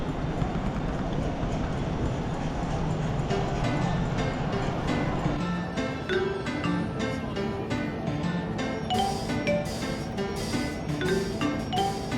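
Steady rumble and rattle of a moving subway-like train carriage in Taiwan, with rhythmic clacking over the rails and faint background murmur throughout.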